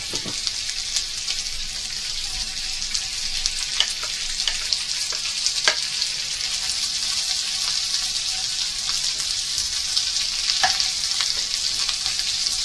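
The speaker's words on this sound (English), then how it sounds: "we're going to cook the onion for sort of 8 to 10 minutes, just until it's starting to go brown and begin to caramelise" Onion frying in a pan with chorizo and rabbit gives a steady, loud sizzle, with sharp crackles and pops scattered throughout and no voices.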